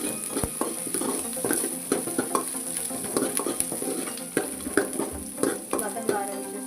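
Bottle gourd curry ingredients sauté in a pan with a steady sizzle, broken by frequent clicks and scrapes of a spoon stirring against the metal; the sound is close and continuous, with no talking.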